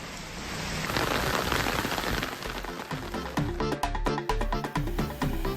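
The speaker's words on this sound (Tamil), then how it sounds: "கோவை மாவட்டம் மேட்டுப்பாளையம் சுற்றுவட்டார பகுதிகளில் 1 மணி நேரத்திற்கும் மேலாக பலத்த மழை பெய்தது." Heavy rain pours over Mettupalayam in Coimbatore district, a dense, steady hiss of drops drumming on surfaces, loud and continuous with sharper splashes toward the end and no voices.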